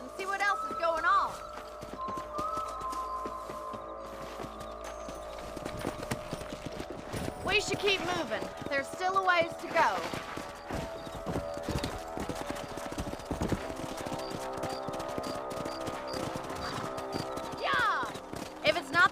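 Horse hooves clip-clopping in the Western video game Red Dead Redemption, a steady walking rhythm of hoofbeats throughout, with a horse whinnying and people talking over it.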